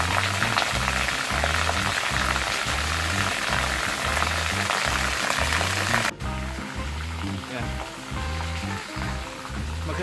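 A shower runs with a steady, close hissing spray over a low rhythmic thumping. Partway through, the spray drops to a softer, quieter flow.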